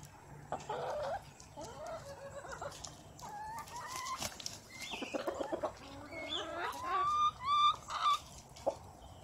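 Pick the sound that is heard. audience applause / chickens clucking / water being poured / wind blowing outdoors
chickens clucking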